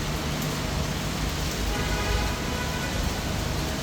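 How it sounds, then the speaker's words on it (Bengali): Rain falls steadily during a stormy night in Dhaka, heard from a balcony as a dense, even wash of pattering drops, loud and continuous with no voices. "বৃষ্টির টাপুর শব্দ শুনতে কিন্তু বেশ ভালো লাগে।"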